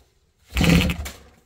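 A single quick mechanical whir as a pull cord spins a boat motor's flywheel during a spark test, rising sharply then fading over about a second.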